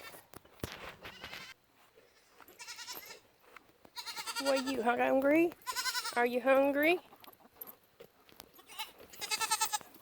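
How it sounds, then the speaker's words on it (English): Baby goats bleat in loud, wavering cries close by, several calls in a row, while a person speaks briefly between them. "now it's out to the baby goats"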